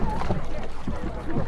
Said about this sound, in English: So we are now paddling on Lago di Braies.